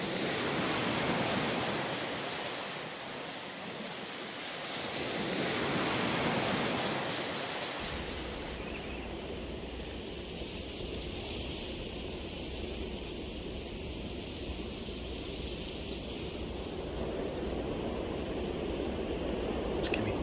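Ocean waves in Civilization V roll in as broad surging washes of surf, swelling and receding in slow cycles before settling into a steadier, windy wash of water for the rest of the long stretch.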